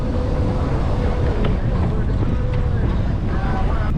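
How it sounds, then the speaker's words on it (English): Strong headwind and crosswind buffet a cyclist's microphone while riding a rural route during RAGBRAI, a loud continuous low roar and rumble filling the whole stretch. "The headwind and crosswinds are a bitch for me."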